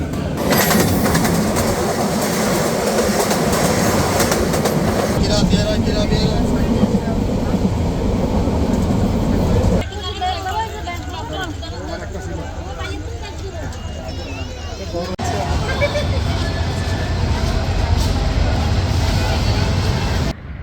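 A train at Chandpur railway station on the Chandpur–Chattogram line: a loud, continuous engine rumble and rolling rail noise with shifting texture, steady throughout with no clear breaks.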